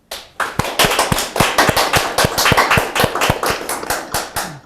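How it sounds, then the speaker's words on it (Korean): A Korean church congregation at a Bible-study graduation service claps together: dense, loud applause rising quickly and holding steady, with crisp individual hand claps standing out close by. "서로를 위한 힘찬 격려의 박수를 부탁드립니다."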